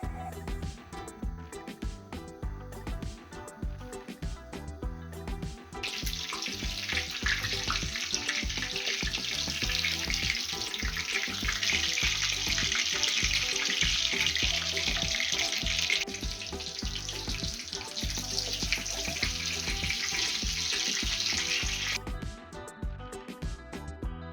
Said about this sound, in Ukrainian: Підсмажуємо наш різник. Олії даємо більше, щоб він прям плавав в олії.